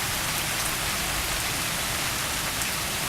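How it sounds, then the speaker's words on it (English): Pouring rain falls outdoors in the morning, an even, continuous rush of drops hitting the ground, close and moderately loud, with no voices over the unbroken hiss. "Woke up this morning to the sounds of pouring rain and thunder"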